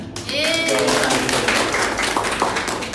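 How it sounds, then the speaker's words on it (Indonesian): A classroom of students bursts into applause, a dense burst of clapping that holds steady for about three seconds with voices mixed in. "Tepuk tangan."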